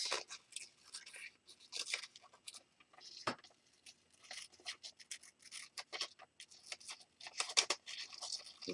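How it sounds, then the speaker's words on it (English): Scissors fussy cutting around a paper piece for a journal, making a string of small snipping and crisp paper crunches in an irregular rhythm, close and fairly quiet, with no talk. "I'm going to go ahead and fussy cut this since I feel like it."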